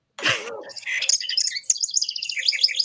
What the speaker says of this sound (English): What do you think this bird is saying?